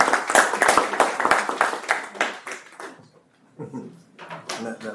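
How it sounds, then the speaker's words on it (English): A small group at a school district special board meeting claps briefly, a few seconds of scattered, close hand claps that thin out, followed by murmured voices. "Can we clap?"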